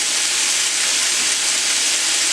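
Smoked sausages sizzle in a pan with a steady, even hiss close by that holds throughout.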